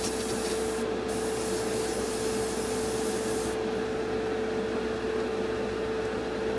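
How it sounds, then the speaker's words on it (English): An airbrush sprays paint onto a Revell Colonial Viper model kit, giving a continuous close hiss of air and paint with a steady underlying hum and a few brief shifts in the spray. "It takes a while for this airbrush to find its perfect balance of air and paint."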